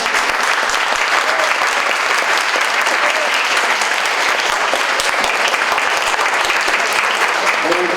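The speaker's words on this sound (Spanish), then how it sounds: "otro fuerte aplauso para las doctoras" An audience at a social sciences research talk gives the female doctors a strong, continuous round of applause, thick and steady for the whole stretch with faint voices mixed in.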